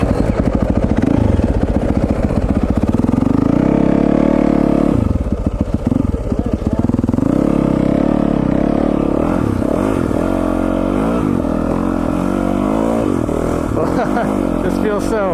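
A 2021 Yamaha YZ450FX dirt bike engine revs hard while being ridden, a loud, close, continuous snarl that rises and falls with the throttle, with clatter and a voice talking over it.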